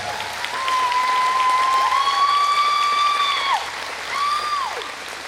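An audience applauds at a community benefit event, with sustained clapping beneath long, tonal cheering or whistling calls that rise and fall twice over the crowd noise.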